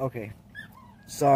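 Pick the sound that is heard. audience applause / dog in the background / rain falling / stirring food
dog in the background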